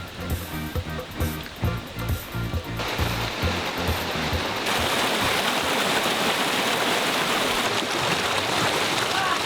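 Steady rain and gusting wind on a hillside in Dominica on the way up to Boiling Lake, filling the air as a continuous loud wash of noise after some rhythmic rustling at the start.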